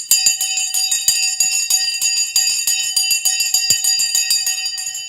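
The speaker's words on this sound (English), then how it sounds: "We just got the bell." An electric bell rings continuously, with rapid, regular clanging strikes that are loud and near, sounding alone for several seconds.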